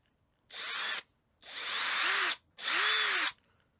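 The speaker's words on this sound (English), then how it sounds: "I think I'm gonna first drill in the weight cavities" Three bursts of a power drill whine in a quiet room, each a few seconds long, as weight cavities are bored into a wooden crankbait fishing lure, the pitch dipping under load in the later two.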